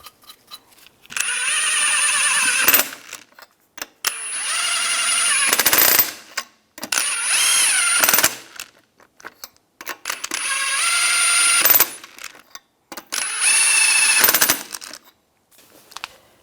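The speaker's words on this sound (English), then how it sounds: "Put the lug nuts on." An impact wrench drives lug nuts onto a wheel of a 2005–2007 Ford Five Hundred in loud, close, rapid rattling bursts, five separate runs of a couple of seconds each with short pauses between them.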